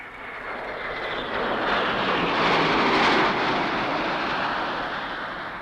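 A supersonic airliner in flight gives a loud, steady, broad jet roar that swells slightly in the middle and then eases, heard alone with no talking.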